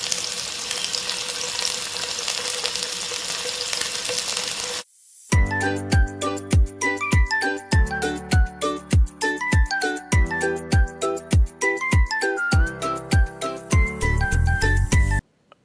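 Beef hitting hot oil and ghee in a pot, a loud steady sizzle that cuts out briefly, then resumes with sharp rhythmic tapping and clatter over the frying.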